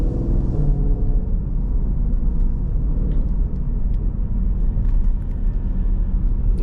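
A Jeep SRT heading onto a highway, its engine a deep, steady low rumble heard from inside the cabin, even and unbroken, with no talking.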